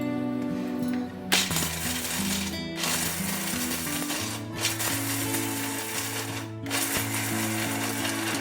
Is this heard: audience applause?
no